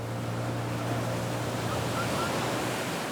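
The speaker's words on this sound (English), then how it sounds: "You see, Mark, the waves here can be treacherous." Ocean surf breaking along the Honduran coast, a steady loud wash of waves with wind buffeting, a low boat engine hum underneath and no talk.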